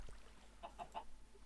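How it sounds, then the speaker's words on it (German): A Minecraft chicken gives three quick, faint clucks in a row, set against a quiet game background. "ist da wahrscheinlich gerade ein Huhn reingefallen"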